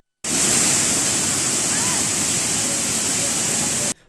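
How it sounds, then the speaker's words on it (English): Water pouring from opened emergency sluice gates at the Kalawava reservoir, a loud, steady broadband roar that starts abruptly and holds constant for several seconds before cutting off, with no voices over it. "2 emergency sluice gates at the Kalawava reservoir have been opened, releasing water towards the Kala Oya."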